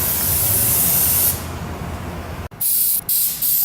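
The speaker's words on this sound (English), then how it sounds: "we're going to spray inside the wheel wells." A steady, loud hiss of Rust Check Coat Protect rustproofing coating sprayed inside a car's wheel wells runs continuously, then cuts out abruptly with a few short bursts and pauses near the end.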